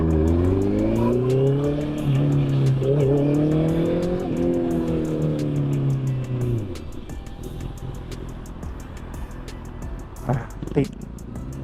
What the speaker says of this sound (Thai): เนี่ยรถเยอะมากเลยอะ